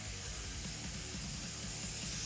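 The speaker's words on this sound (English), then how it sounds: "So I want to make sure that I spray that off over here on my little spray sheet." Paint from a spray gun nozzle spraying onto a spray sheet makes a steady, broad hiss, faint but continuous, with no voices.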